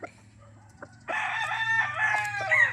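A backyard rooster at a small breeder's yard in Rosario, Batangas crows once, loud and close, after a quiet lead-in with faint clucks.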